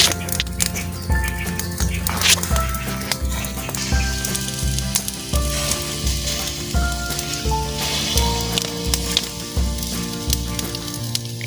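Prawns cook on an outdoor barbecue with a continuous crackling sizzle, while tonal sounds and faint chirps carry on in the background throughout.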